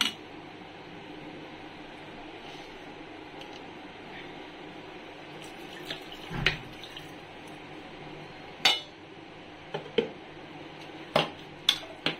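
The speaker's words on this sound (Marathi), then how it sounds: "सो आपण हे मिक्सरचं भांडं धुवून घेत आहोत." Water splashes and trickles while a mixer grinder jar is rinsed in a home kitchen during clam curry preparation, with a few sharp clinks of the jar against a vessel near the end.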